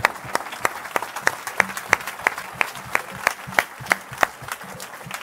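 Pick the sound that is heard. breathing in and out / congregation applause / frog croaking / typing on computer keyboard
congregation applause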